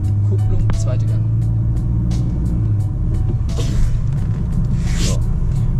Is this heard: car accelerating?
yes